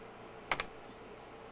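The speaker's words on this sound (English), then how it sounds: "Now, give me a second to type this in here." A few keystrokes on a 1997 computer keyboard, two quick close clicks followed by a pause and another click at the end, faint against a quiet room hum.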